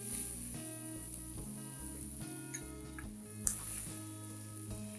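Cabbage and spring onion fry in a pan with a close, even sizzle, broken by a few soft ticks and clinks of a utensil as the food is stirred.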